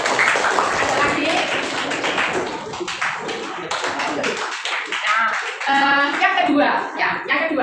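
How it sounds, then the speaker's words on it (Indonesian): A classroom of students clapping for a classmate, brisk overlapping handclaps close by, mixed with voices talking throughout. "Oke, tepuk tangan buat Kristalin."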